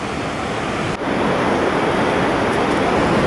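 Steady, dense rushing water roars continuously without a break, a waterfall in Yosemite National Park, California, heard from nearby, broad and loud throughout.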